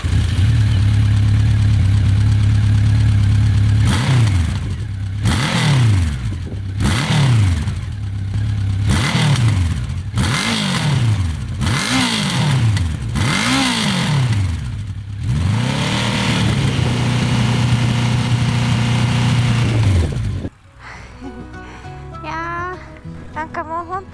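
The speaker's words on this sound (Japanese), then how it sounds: "なんかもうほんとこれぞ4発なんだっていういい音なんだけど、でもうるさすぎないんですよね。" A Honda CB1100 EX four-cylinder motorcycle engine idles loudly and close, revved in a series of sharp throttle blips before settling into a steady idle, then cuts off abruptly as a voice begins speaking.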